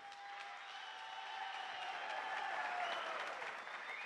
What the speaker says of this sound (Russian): Ваши аплодисменты бойцам.